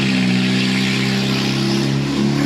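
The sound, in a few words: loud car driving by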